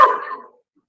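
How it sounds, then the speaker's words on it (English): A single short, loud dog bark sounds close by at night, cut off quickly and followed by silence. "Sorry for my asshole dogs."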